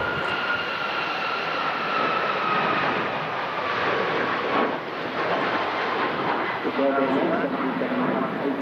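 A Ryanair airliner from Copenhagen roars steadily and loudly at Manchester Airport in strong Storm Darragh winds, with a drifting engine whine and gusty rumble throughout.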